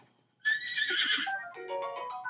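A horse in the video game Zelda: Breath of the Wild lets out one clear whinny after a short silence. It is a rising, then wavering neigh, close and alone.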